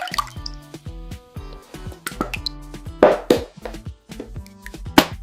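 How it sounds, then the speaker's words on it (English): Milk, eggs and oil going into a bowl for a chocolate cake batter, heard as a series of close wet plops, drips and short pours in an irregular rhythm, with no one talking. "Add milk, eggs, and oil"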